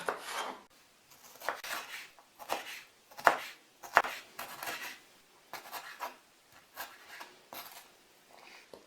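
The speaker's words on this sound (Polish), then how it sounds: "Paprykę pokroję w kostkę mniej więcej takiej samej wielkości, jak były krojone ogórki i cebula" A knife chops bell pepper into cubes on a cutting board, a steady series of soft close taps and slices, fairly quiet, with no talking.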